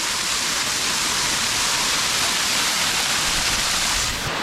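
Steady, dense roar of a waterfall in New River Gorge, West Virginia, cold water cascading down a rock face into a stream; continuous broadband rush close by, loud and unbroken, with no voices.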